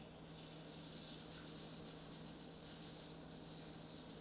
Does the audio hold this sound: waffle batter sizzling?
yes